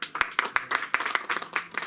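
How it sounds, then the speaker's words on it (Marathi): A small scattered round of hand clapping at a poetry gathering's anniversary event, distinct individual claps in quick uneven rhythm, close by. "जोरदार टाळ्या"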